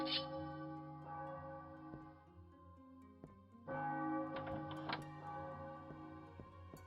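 A tripwire bell rings in Elder Scrolls 2, with resonant metallic tones layered over game music, a brief sharp strike near the middle, then a louder burst of ringing chimes.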